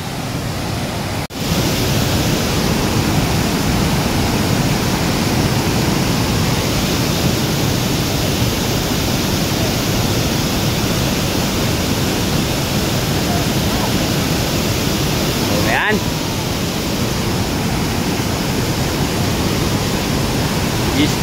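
Fast-flowing river current rushes in a steady, loud broadband wash with no pauses, a constant close roar of moving water filling the scene.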